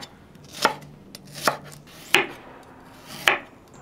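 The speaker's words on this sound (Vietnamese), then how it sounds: "Đầu tiên mình cắt củ hành tím này ra." Four crisp, evenly spaced knife chops through shallots onto a cutting board, close and clear with quiet pauses between strokes and no talking.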